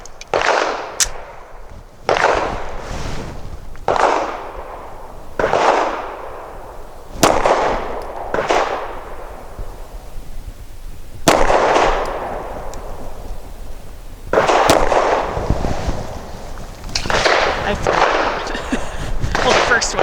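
A Walther Q4 SF pistol fires Perfecta 124 grain rounds, sharp loud reports at an uneven pace, about a dozen shots with short pauses between some of them.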